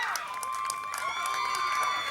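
A home crowd at a softball game cheers and applauds a two-out rally, a steady dense roar of voices and clapping with scattered shouts sustained throughout.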